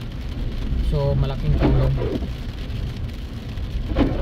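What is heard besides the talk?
rain falling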